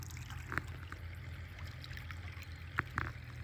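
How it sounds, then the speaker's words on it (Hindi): Irrigation water rushes steadily through a field channel beside a white maize crop near Faisalabad, a constant low gushing flow with a faint hum underneath and a few sharp clicks. "पानी पूरे जोरां दे नाल जा रहा"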